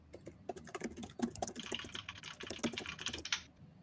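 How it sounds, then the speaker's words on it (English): Rapid, uneven clicking of keys on a computer keyboard, close and steady for several seconds, with no voices. "I can hear you typing."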